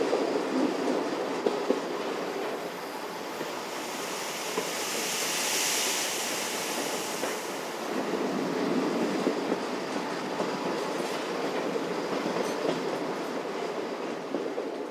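A railcar slowly pulling into Paris Gare de l'Est toward the buffer stop, its wheels clicking and rumbling under a broad rushing hiss that swells and fades as the car rolls on.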